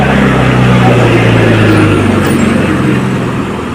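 A tempo truck arrives on a village trip in Konkan during the Shimga festival, its engine a loud, steady low drone with a tonal hum that eases slightly toward the end.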